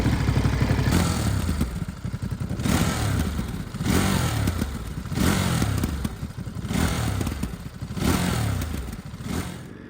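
2023 Ducati Monster motorcycle engine running, a loud, rough mechanical drone that swells and fades roughly every two seconds with clattering texture, heard close up and without speech.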